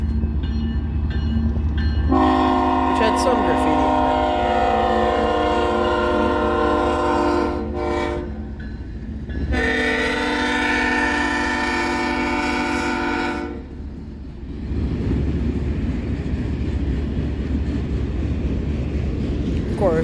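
A Norfolk Southern freight manifest train passes close by, sounding its horn in long blasts over the rumble of the locomotive, then rolling wagons clatter steadily past while someone talks briefly.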